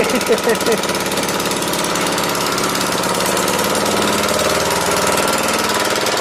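A motorized rotating rig for roasting lechon runs with a steady mechanical hum and rattling knock, continuous and fairly loud, while people talk over it.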